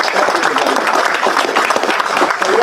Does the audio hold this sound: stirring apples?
no